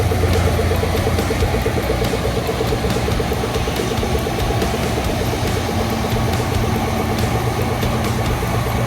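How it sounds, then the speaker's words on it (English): A 986 tractor pulling a grain cart idles steadily nearby, a constant low diesel rumble with a faint rhythmic clatter throughout. "Coleman just brought the 986 with the grain cart up here."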